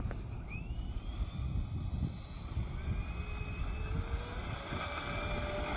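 LX Su-47 RC model jet at full throttle on takeoff, a faint distant whine with rising tonal sweeps over steady broadband wind-like noise, no talking.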